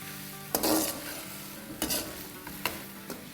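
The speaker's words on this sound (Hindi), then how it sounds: "बस इनको मिलाएंगे और अच्छे से मिला देंगे।" Food for a Chinese noodle, rice and chicken meal is stirred and mixed in a sizzling, oiled pan, with a steady fry hiss broken by three or four loud scraping stirs at irregular intervals, close and without speech.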